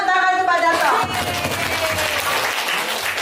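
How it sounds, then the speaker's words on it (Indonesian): A classroom group claps for a teacher. Broad clapping runs through most of the clip after a voice fades out near the start. "tepuk tangan untuk Pak Darto."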